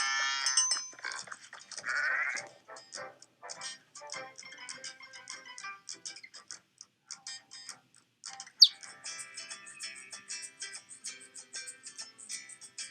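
A goat bleats loudly twice near the start, followed by a stretch of quick chirps and ticking clicks, with one sharp bleat-like cry midway.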